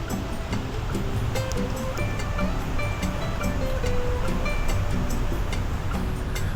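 Ocean surf at Pantai Torohudan beach in Jogja, a steady broadband wash of waves that stays loud and continuous throughout, with no talk over it.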